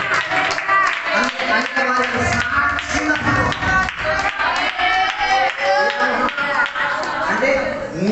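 During a Bible sermon the congregation claps in a rhythmic, percussive way that runs under loud, continuous preaching and stays close and busy throughout.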